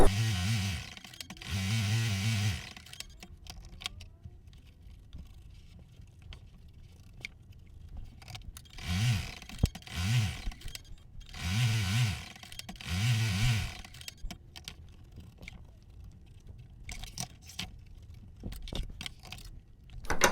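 An embroidery machine satin stitching yellow thread over appliqué fabric, running in repeated bursts of fast mechanical buzzing and whirring, separated by quieter pauses with light clicks.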